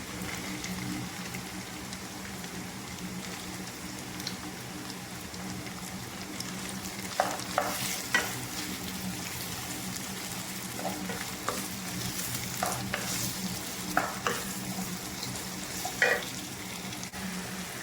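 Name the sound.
white onion frying with ginger in a pan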